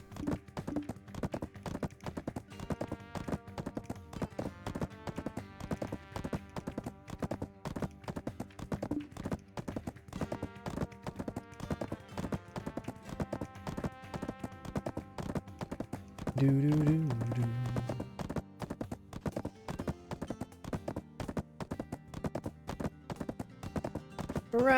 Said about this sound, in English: Run, little horsey, run!